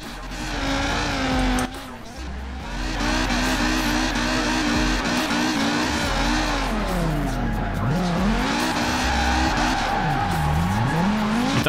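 An old Volvo with a factory engine drifts in Forza Horizon 4, its engine revving and wailing up and down continuously while the tires squeal and skid throughout, loud and close.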